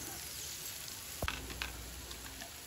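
Capsicum and masala frying in a pan for a mushroom paneer curry, giving a steady soft sizzle throughout with a brief stir or clatter near the middle and a few light taps after.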